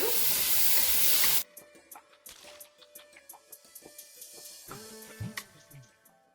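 Garlic cloves and asparagus sautéing in a pot: a loud hiss as the garlic hits the hot pan, then quieter crackling and stirring clinks.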